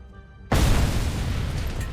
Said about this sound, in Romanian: Altă bombă